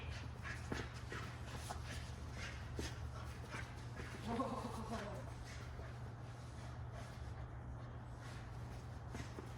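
A dog plays tug with a toy during an impulse-control training session, with faint tugging, panting and a brief whimper-like growl under steady low hum and a trainer's intermittent talk.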